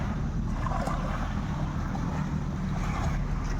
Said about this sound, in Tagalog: naririnig natin yung magandang